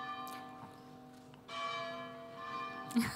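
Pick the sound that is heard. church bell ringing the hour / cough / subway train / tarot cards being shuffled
church bell ringing the hour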